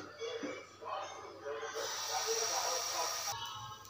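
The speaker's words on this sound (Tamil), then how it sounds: "இதே மாவில் இப்போ தோசையும் ஊற்றிடுவோம். நம்ம கல் போட்டு சூடாயிருச்சு." Dosa batter sizzles on a hot stone griddle, a steady close hiss that swells and holds, with a brief shift near the end and no talk over it.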